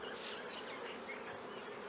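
Honey bees buzz at an open hive in the tropics of Fiji during honey removal, a dense, steady, close swarm drone with no voices.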